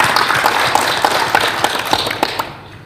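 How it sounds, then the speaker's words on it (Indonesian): A workshop audience in Kupang breaks into scattered applause, a modest group of claps that thins out and fades toward the end. "Kita tepuk tangan."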